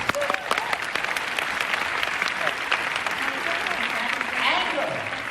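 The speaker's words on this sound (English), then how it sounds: "Give FC a round of applause." A crowd claps steadily in sustained applause, dense and even throughout, with voices cheering and talking faintly underneath.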